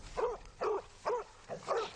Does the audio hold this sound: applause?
no